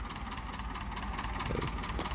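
Russian tractor engine running steadily while plowing fallow land, a continuous loud mid-low drone with no pauses and no talk.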